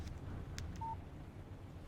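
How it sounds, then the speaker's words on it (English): A mobile phone text message alert chimes once in the video game Alan Wake, a short, quiet electronic tone set against a low, steady background hum. "Text message from Barry."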